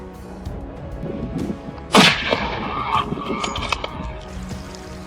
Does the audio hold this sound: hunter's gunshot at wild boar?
yes